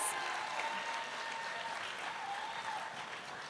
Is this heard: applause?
yes